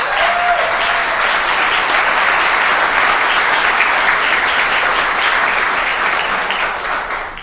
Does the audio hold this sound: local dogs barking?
no